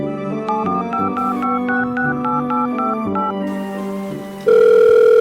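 Telephone call to customer service: a melodic ringback tone of repeated stepped chimes plays for several seconds, then switches to a loud, steady connecting tone.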